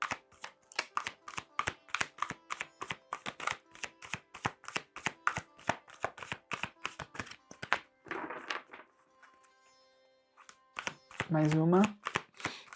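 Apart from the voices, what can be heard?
tarot cards being shuffled and drawn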